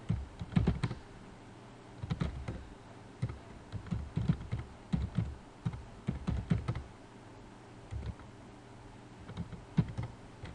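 Close, irregular clatter of typing on a computer keyboard while entering data into a spreadsheet, short bursts of keystrokes separated by brief pauses, moderately quiet against a steady hiss.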